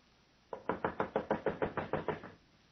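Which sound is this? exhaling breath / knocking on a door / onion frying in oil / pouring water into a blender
knocking on a door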